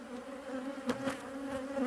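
A calm colony of honeybees hums continuously at an open hive in winter, a close, even buzz broken by a couple of soft knocks.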